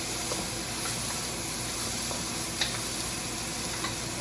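Vegetables fry with garlic in a hot pan for shrimp fried rice, a dense, steady sizzle filling the whole stretch with occasional faint stirring clicks.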